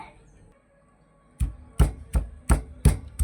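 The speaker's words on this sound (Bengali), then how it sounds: "এটা পাটা পুতো দিয়ে ছেঁচে নেব।" Bitter gourd is crushed on a flat grinding stone with a stone pestle: after a quiet start, about six heavy, close thumps land in a fairly even rhythm.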